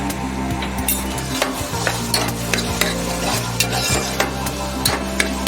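Spices stirred into hot oil for a Maharashtrian toor dal tadka, loud steady sizzling with repeated scraping and clinking of a spoon against the pan, with low background music.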